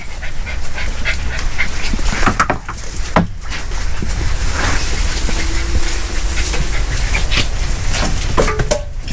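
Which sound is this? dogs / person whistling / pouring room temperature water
dogs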